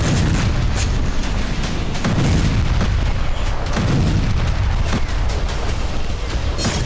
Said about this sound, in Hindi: ऐसा ही धमाका होम्स शहर में भी देखा गया।